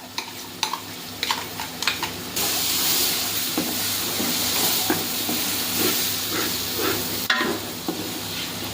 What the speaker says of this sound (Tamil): பூண்டு பேஸ்ட் போட்டு வணக்குறோம்.